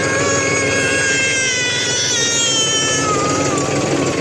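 A tractor engine runs steadily while hauling cut wood on a farm, giving a loud, continuous idling drone with vibration and rattling, and no pauses.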